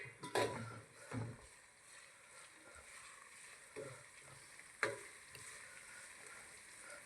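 Onion and garlic fry gently in masala over a low flame for tuver totha, a faint, steady sizzle broken by a few soft scrapes and clinks of a spoon stirring the pot.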